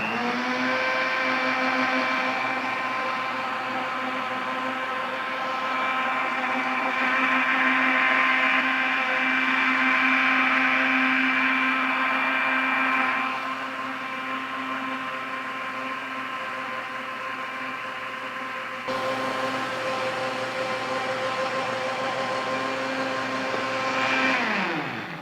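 A kitchen blender runs steadily on a vegan brigadeiro mixture of melted cocoa and coconut milk, a loud sustained motor whine with slight shifts in pitch and load, no voices.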